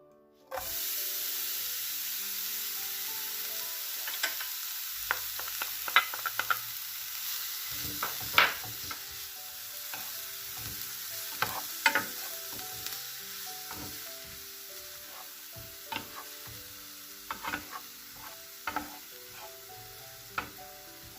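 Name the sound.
onions frying in a pan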